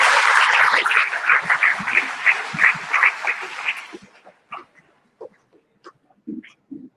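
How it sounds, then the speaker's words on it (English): Dense applause from an audience at a medical college graduates' reception fills the first four seconds, then breaks off into scattered, sparse claps and small sounds amid near-silence. "Friends, give a grand applause for everyone present here."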